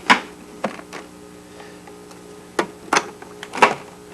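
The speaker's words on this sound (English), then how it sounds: "The lid goes on" Plastic lid of a Cuisinart PowerPrep Plus food processor being fitted onto the bowl over a chopping blade and chocolate, giving several sharp clicks and clacks, close and fairly loud, spaced irregularly with quiet gaps between.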